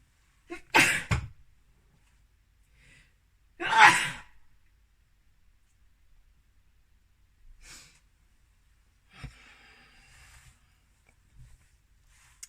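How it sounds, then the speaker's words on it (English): Two sharp, close sneezes a few seconds apart, then softer sniffs and breaths in a quiet room. "I am sneezing all the time"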